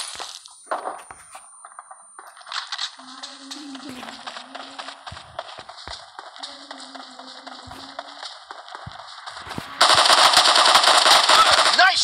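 Rapid machine-gun bursts and gunshots in a team deathmatch video game, crackling throughout and ending in a dense, loud volley, with some speech.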